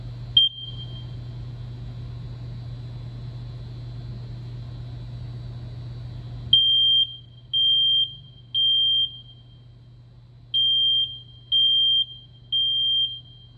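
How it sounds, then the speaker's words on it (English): A smoke detector in a fire safety demonstration gives a brief chirp, then sounds its alarm: loud, piercing beeps in a steady repeating pattern, each about half a second long, over a low steady hum. "I'm going to demonstrate what a smoke detector sounds like."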